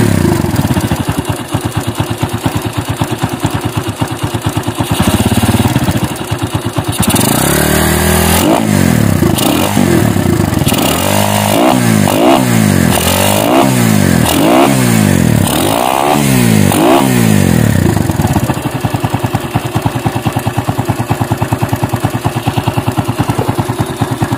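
A Kawasaki Barako motorcycle fitted with a grind cam and a chicken pipe runs loud and close, a rough lumpy idle with rapid mechanical ticking, broken by a series of hard blipping revs that rise and drop before it settles again.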